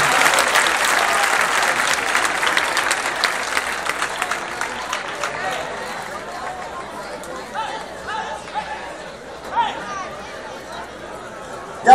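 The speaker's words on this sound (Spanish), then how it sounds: "Esas palmas de rueda, público cariñoso." An audience at a bullfighting cortes contest in Rueda, 2013, claps in loud, dense applause that slowly thins, with crowd chatter running underneath.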